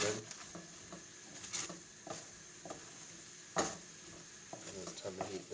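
Food is stirred in a hot pan, sizzling and frying steadily after a few cracks of black pepper, with scraping strokes and a few sharper clatters from the utensil against the pan.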